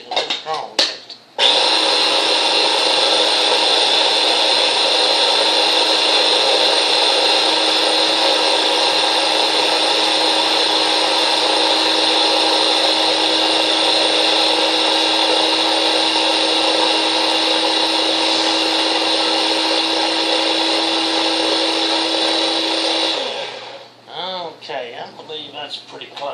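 An electric grinder whirs steadily for about twenty seconds, its blades chopping herbs and stems with a constant high buzzing drone, then spinning down before talk resumes.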